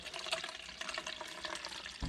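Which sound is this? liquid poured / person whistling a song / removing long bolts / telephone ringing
liquid poured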